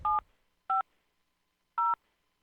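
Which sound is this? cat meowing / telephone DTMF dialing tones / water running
telephone DTMF dialing tones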